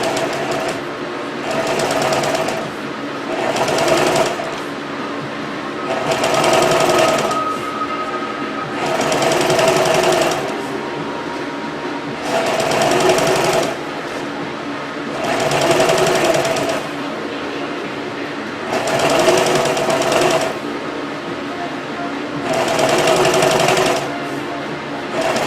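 A sewing machine stitches a golf cart seat cover in about eight separate bursts. The motor whirs loudly during each run, with short pauses between runs while the material is fed.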